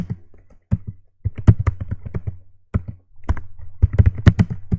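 A computer keyboard being typed on in a home setting, irregular bursts of crisp keystrokes and clicks with short pauses between runs, close and clear with no talking.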